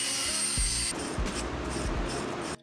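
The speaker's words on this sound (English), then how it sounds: "So I'm going to clean all that off now with a wire brush and see what it looks like under." Wire brush on a grinder scrubbing freshly brazed aluminium, a steady loud abrasive whir and rasp that runs continuously before cutting off abruptly near the end.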